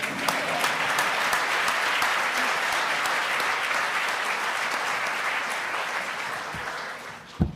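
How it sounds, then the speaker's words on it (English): An audience at a talk at LSE applauds loudly and continuously, a dense wash of clapping that holds steady before fading out near the end. "Applause, please."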